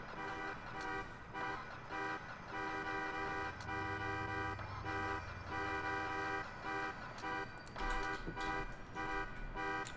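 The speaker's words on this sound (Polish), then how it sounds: "Nie trąbimy na mnie." A car horn blares in Grand Theft Auto IV: The Ballad of Gay Tony, sounding in long, loud, sustained blasts that break off briefly and resume repeatedly over a low engine rumble, with no talking.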